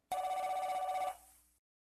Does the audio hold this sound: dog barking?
no